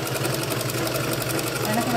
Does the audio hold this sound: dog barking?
no